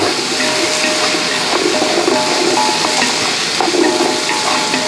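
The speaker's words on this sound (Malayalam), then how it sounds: "പിന്നെ എരിവിൽ ആവശ്യമുള്ള രണ്ട് മൂന്ന് പച്ചമുളക് അതുകൂടെ ഇങ്ങോട്ട് അരിഞ്ഞ് കൊടുക്കും ഇതെല്ലാം കൂടെ ഒന്ന് ഇളക്കി" Vegetables for a vegetable biryani, with green chillies added, are stirred and fried in a pan, giving a loud, close sizzle broken by scraping stirs.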